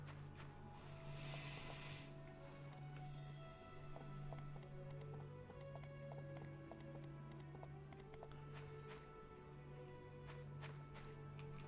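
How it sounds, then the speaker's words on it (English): Horse hooves clip-clopping in the My Time at Portia farming video game, a continuous run of quick rhythmic clops under steady game music and ambience, with no talking. "Horse."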